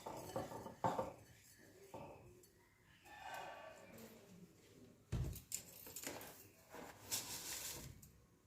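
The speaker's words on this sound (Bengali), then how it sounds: "আদা বাটাটা দিয়েও ভালো করে মিক্স করে নেব।" Ginger paste being mixed in a cooking pot: a spoon scrapes and clinks against the metal in irregular strokes, with a few sharper knocks, fairly quiet, and a voice murmurs in the background.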